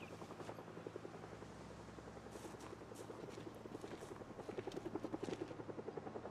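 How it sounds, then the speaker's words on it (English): A helicopter passes in Project Zomboid with a steady rhythmic thudding of rotor blades, faint and distant, growing slightly stronger, with no talking. "Oh, there's the heli."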